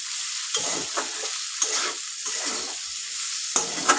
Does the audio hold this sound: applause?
no